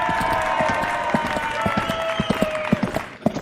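A crowd at a Tiki Oasis event claps and cheers, a dense spread of handclaps and calls that keeps going under a voice talking, fairly close and lively throughout.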